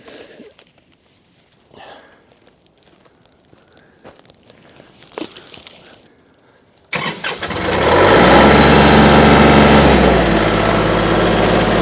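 Quiet shuffling and footsteps, then a loud Kubota tractor engine cranks and roars to life, settling into a heavy, close idle.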